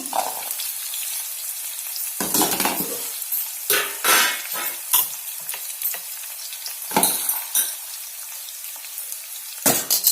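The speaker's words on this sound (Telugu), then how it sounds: "బాగా రెడ్ కలర్ వచ్చే వరకు వేయించాలండి" Onions and spices frying in a pan for meal maker dum biryani, a steady close sizzle with bursts of stirring and scraping, no talking.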